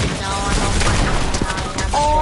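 Rapid bursts of gunfire in a Fortnite zero build match, loud and close, with shots cracking in quick volleys from two attackers over game background noise.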